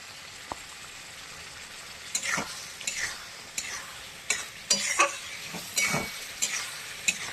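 Okra being stir-fried in a hot pan, with a soft constant sizzle under a series of irregular scraping and stirring strokes of a spatula, the louder ones bunched in the second half.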